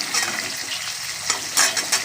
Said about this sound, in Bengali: আমি এবার নাও কুমড়ো দিয়ে বেগুনটা ভেজে নেব।